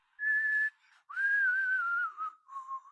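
A whistled Star Trek theme plays as a phone ringtone in clear, sustained tones, a long phrase followed by shorter notes, playing alone.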